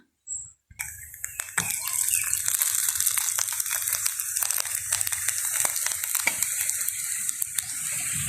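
A homemade village roti cooks in a pan, giving a steady crackling sizzle, with a soft scrape and thump as the flatbread is flipped over; no one talks.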